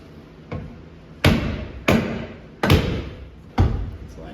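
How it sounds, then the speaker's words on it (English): Four heavy hammer blows ring out on a car's front-end part during assembly, each a sharp metallic thud with a short decay, spaced about a second apart after a faint first knock. "Oh, just with a hammer."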